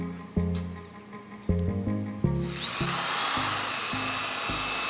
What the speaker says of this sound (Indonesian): Saya akan menggunakan mata bor step drill.